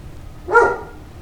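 A pet dog lets out a single short bark indoors, moderately loud against a quiet background hum, sounding once and then fading.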